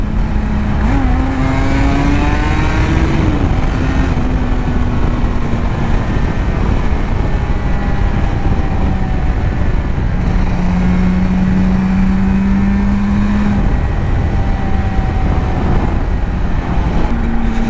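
Suzuki RG500 two-stroke motorcycle fitted with Nikon exhausts, loud and close as it accelerates on the road, the engine note climbing through the gears in long rising sweeps with steady wind roar throughout.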